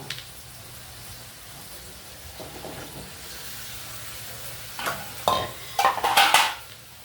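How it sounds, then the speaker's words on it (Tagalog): Vegetables for pakbet — squash, okra, bitter melon and string beans — go into a hot pan, giving faint stirring and low sizzling that swell into louder clattering, frying bursts near the end. "Tapos, ilagay natin yung ating gulay"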